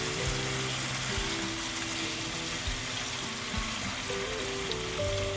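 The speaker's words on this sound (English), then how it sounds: "Give it a quick mix and cook it on high heat for a few minutes." Lamb pasanda fries in a kadahi over high heat, giving off a loud, steady sizzling hiss that never lets up. A faint low hum runs underneath.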